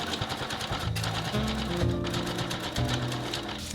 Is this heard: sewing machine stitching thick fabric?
yes